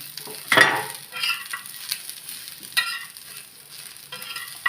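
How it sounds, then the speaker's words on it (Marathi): Onion roasting in oil on a tawa, a soft crackling sizzle with intermittent scraping strokes of a spatula, close and moderately loud, with quieter gaps between stirs. "आता याच तव्यात मी कांदा भाजून घेते"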